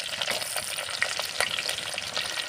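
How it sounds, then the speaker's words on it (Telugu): Onion pieces, curry leaves, cumin and green chillies fry in hot oil for a Nellore fish curry, a steady close sizzle with occasional sharper crackles and soft stirring scrapes, no voices. "అన్నీ కూడా వేసుకొని చక్కగా ఉల్లిగడ్డలను వేయించుకోవాలన్నమాట"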